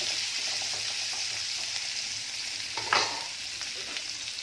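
Oil sizzles steadily in a pan as ivy gourd is sautéed and stirred, with a brief scrape of a utensil partway through.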